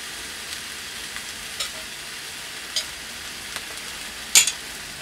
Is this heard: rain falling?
no